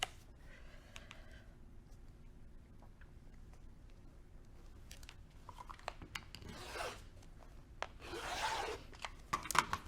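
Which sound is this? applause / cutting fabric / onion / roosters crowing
cutting fabric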